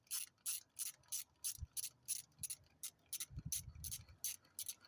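Ratchet with an extension turning 12 millimeter bolts during a water pump replacement on a 2.4 engine, a quick run of crisp, regular clicks, close but quiet, with a couple of low knocks underneath.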